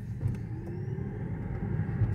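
A used 2016 BMW i3 electric car accelerates with a low, steady road rumble and a faint rising electric whine, heard from inside the cabin with no voices.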